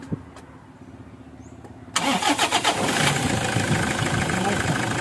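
Toyota Fortuner diesel engine with a hard-starting injector fault cranks after a quiet pause, catching with a loud sudden burst and a few rough pulses before settling into a steady, close idle rumble.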